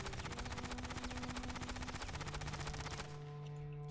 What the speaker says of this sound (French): On dirait qu'il y a les balles qui ricochent de temps en temps.